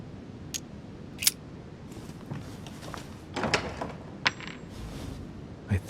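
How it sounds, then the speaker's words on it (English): A metal key drops to the floor in the video game The Council, giving a few scattered bright metallic clinks and taps over a quiet room background, with no talking. "A metallic sound, like a key falling to the floor"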